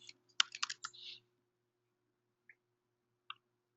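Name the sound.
typing a loop name on a computer keyboard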